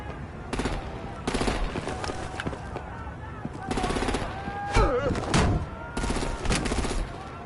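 Bursts of automatic gunfire in a Batman: The Enemy Within game scene, several loud rapid volleys in irregular bursts, with a voice speaking briefly in between.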